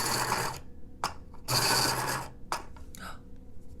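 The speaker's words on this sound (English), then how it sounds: "Let's find out if we can sharpen this." An AFMAT electric pencil sharpener grinds a pencil in three loud, close mechanical whirring bursts, separated by short pauses.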